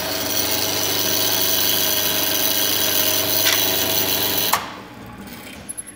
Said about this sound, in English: And then turn it on and drill right the way through.